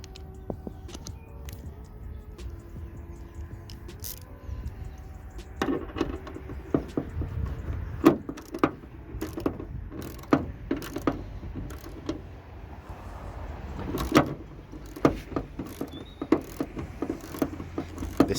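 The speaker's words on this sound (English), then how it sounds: "Then you want to use a 12mm socket to tighten that up." A ratchet fitted with a 12mm socket tightening a bonnet strut on a VW Polo, giving a series of short, quiet clicking and clattering bursts, close and fairly faint, with no talking.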